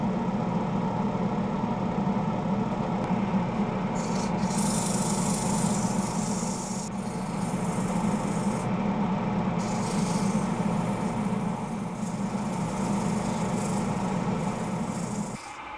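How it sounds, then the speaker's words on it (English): Continuous abrasive sanding of a wooden bowl with 180-grit in reverse rasps over a steady lathe motor hum, holding for about sixteen seconds with a few brief dips in intensity. "a little bit of sanding. Starting with 180 in reverse"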